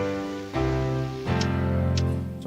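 Keyboard chords in a progression of a six chord, two dominant seventh, five and one, played in root position without inversions, with two clear sustained chord changes, close and moderately loud.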